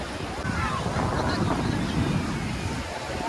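Sea waves roll and break on Bakkhali beach, a steady broad wash of surf blended with gusty wind buffeting the microphone, continuous and fairly loud throughout with no clear individual crashes.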